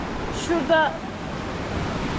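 A stream near Machu Picchu flows with a steady, rushing hiss that fills the whole clip, and a brief voice sounds over it near the start.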